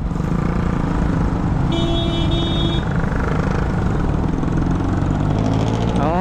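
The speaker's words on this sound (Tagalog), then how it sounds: "medyo traffic na dito" Steady road traffic on West Service Road heard from inside a car, a continuous engine and road rumble with passing vehicles and a brief tonal horn-like sound partway through.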